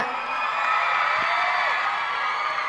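A crowd screams and cheers continuously at the Seed Awards ceremony in 2011, a dense, bright wash of high-pitched shrieks and whoops filling the whole stretch.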